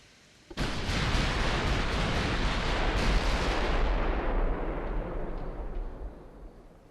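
Warship guns fire in the naval game Ultimate Admiral: Dreadnoughts, a sudden loud broadside boom that swells into a long rumbling roar, then slowly fades over several seconds, with no voices.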